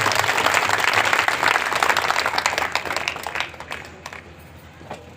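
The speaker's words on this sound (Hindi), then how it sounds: "जोरदार तालियां" Loud crowd applause from an audience at a Buddha Purnima festival, dense clapping that holds strong before thinning and fading toward the end.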